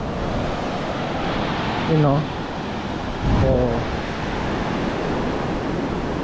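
Steady broadband wash of sea waves breaking on a roadside beach, continuous and moderately loud, with brief voices speaking over it twice.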